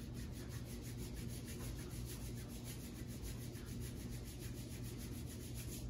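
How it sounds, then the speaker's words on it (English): Two bare hands rubbing briskly back and forth as body music, a steady, soft scraping swish that continues evenly without breaks, close and quiet with no voices. "Some of the first sounds you'll hear will be the sounds of me rubbing my hands together."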